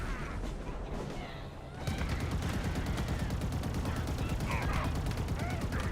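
Rapid automatic gunfire in Halo Infinite, a steady, fast-pulsing stream of close, loud shots that kicks in after a quieter opening and keeps going without a break.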